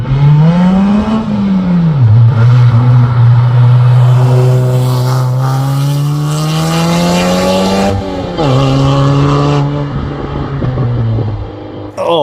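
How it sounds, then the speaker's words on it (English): A DF Goblin street-legal go-kart tears across dirt off-road, its small engine loud and close, revving up and down through changing pitch with brief easing off and surging again, no voices. "that was Danny taking the Goblin for a little off-road spin"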